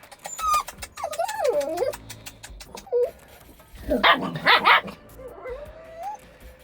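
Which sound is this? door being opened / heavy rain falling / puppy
puppy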